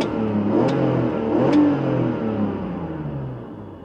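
A BMW straight-six engine, warmed up to temperature, revs close by, climbing through a loud blip and easing back down over a few seconds with no talk.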